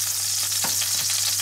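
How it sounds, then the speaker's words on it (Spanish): Pork loin browning in hot frying oil, a steady close sizzle and crackle throughout with a couple of brief clinks or stirring touches, no talking. "En 4 minutos ya tengo dorada toda la carne."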